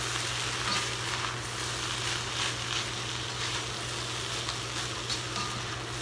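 Fried rice sizzles steadily in a hot pan as it is stirred and mixed, with a constant hiss and faint scraping, close and fairly quiet, no talking.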